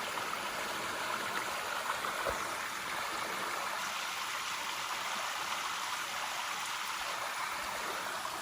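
Creek water runs steadily across a rural property, a constant broadband rush and trickle filling the whole stretch with no voices.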